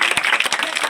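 A crowd at a village magic show claps hands in dense, continuous applause, close and lively, with voices mixed in.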